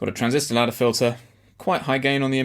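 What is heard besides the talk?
None of the usual background noises is heard.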